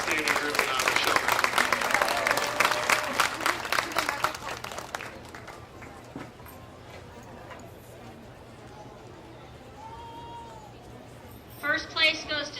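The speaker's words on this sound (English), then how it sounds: "Let's once again give them all a big round of applause." A crowd applauds novice showmen at a farm show competition: loud, dense clapping for about five seconds that fades out, followed by quieter room sound with a voice speaking.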